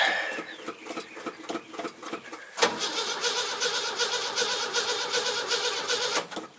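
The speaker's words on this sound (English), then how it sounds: "Cold start." A 1971 Buick GS V8 turns over on a cold start, with a few cranking beats before it catches and settles into a steady, loud running roar.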